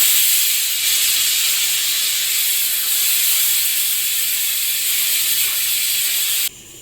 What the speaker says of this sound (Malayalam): 2 വിസിൽ എനിക്ക് വേണ്ടി വന്നു